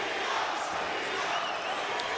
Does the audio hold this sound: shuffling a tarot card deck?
no